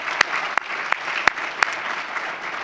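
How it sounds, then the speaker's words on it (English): Guests at a formal dinner applaud the head table with sustained crowd clapping, steady and fairly loud, punctuated by a few sharp, prominent individual claps spaced roughly a third of a second apart. "Round of applause for your head table."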